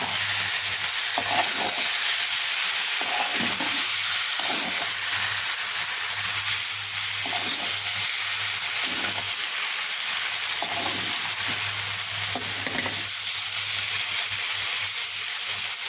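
Vegetables sizzle and hiss in a pan as roasted cumin powder is stirred in, with a constant frying crackle broken by regular bursts of stirring every second or two, and no voices.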